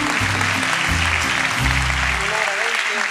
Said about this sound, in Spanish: ¡Aplauso para nuestra amiga!